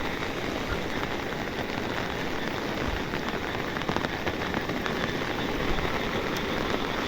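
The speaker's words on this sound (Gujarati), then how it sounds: "હજી વરસાદ તો બંધ થવાનું નામ લેતો જ નથી, શરૂ જ છે હજી." Heavy rain pours down in a steady, dense roar of drops hitting surfaces, continuous and enveloping with no pauses or voices.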